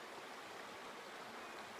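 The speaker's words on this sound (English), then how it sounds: "Anyway, it's a beautiful river." A river on the Overland Track between Windermere Hut and New Pelion Hut flows with a steady, even rushing murmur, close and unbroken, with no voices.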